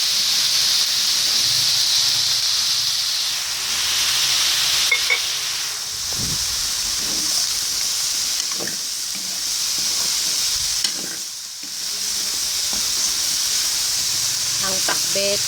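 Okra and bitter melon hiss and sizzle steadily in a hot pan while pakbet Tagalog cooks, with occasional stirring and scraping sounds and no voices.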